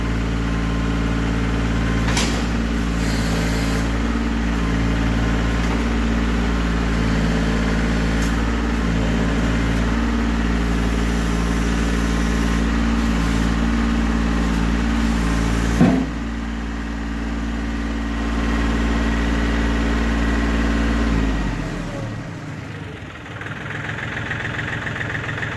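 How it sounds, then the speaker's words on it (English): A 2002 John Deere 790 tractor's Yanmar diesel engine idling steadily with a low, even rumble and faint rhythmic knock, then the engine note changes and drops away near the end. "Real nice sounding Yanmar diesel engine."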